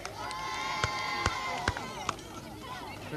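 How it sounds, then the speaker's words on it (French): A crowd at a 1984 town race through the streets of Propriano gives faint, distant cheers and shouts, with a few sharp claps standing out. "On applaudit tout le monde."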